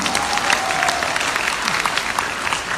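A seated audience at an Alliance in Motion Global business event claps in a dense, steady wave of applause, fairly close and filling the whole stretch without a break.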